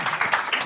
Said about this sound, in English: Let's give a big round of applause to the Swami.